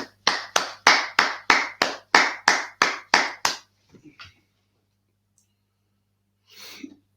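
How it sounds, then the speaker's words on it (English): At a brotherhood gathering, about eleven crisp, evenly timed hand claps sound up close, followed by a few soft taps, silence, and a short burst of noise. "Clap it up."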